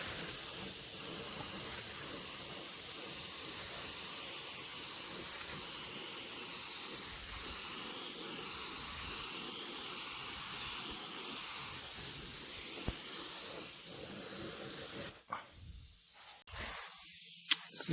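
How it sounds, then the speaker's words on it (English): An aerosol spray can applies clear coat to a car panel in a long, continuous, close hissing spray that runs unbroken before cutting off near the end, followed by a few short bursts. "you're ready to spray the clear. Again, you can use a spray can for this."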